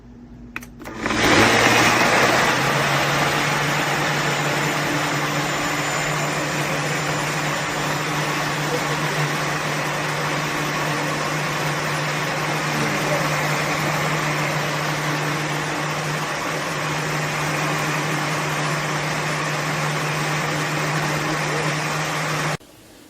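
A NutriBullet 1200W full-size blender, model NBF50500, starts with a click and runs at a loud, steady high-speed whir for about twenty seconds before cutting off abruptly.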